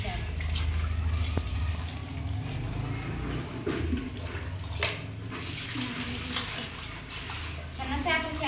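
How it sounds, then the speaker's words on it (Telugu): Small fish are washed with salt and water in a kitchen, with steady running and splashing water throughout and a person talking over it. "ఉప్పు అయితే వేసి కడుగుతున్నానండి"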